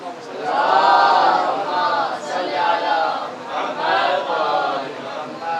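A mosque or majlis crowd chants salawat loudly in unison, a swelling collective voice with rising and falling waves that fills the whole stretch.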